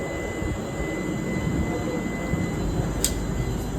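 Steady broadband rumble of a passenger train standing at an Indian railway station, with a constant hum and a short high hiss near the end, no talk.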